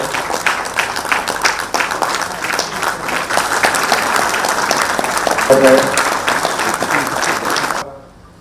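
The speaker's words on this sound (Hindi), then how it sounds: "जोरदार तालियों से" Loud, sustained applause fills a hall at a Jharkhand Administrative Service Association event honouring Chief Minister Hemant Soren, with many hands clapping in a thick, steady roar that swells slightly midway and then cuts off abruptly.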